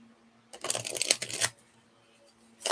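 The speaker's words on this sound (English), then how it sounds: "I'm tired of hearing the cards on the table" Tarot cards are shuffled on a table in two quick riffling bursts, the first lasting about a second and the second starting near the end, crisp and close with quiet in between.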